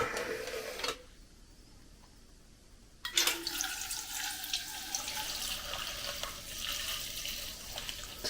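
Fresh local milk is poured through a filter, giving a close, continuous liquid pouring and splashing sound that stops briefly and then resumes at a louder level.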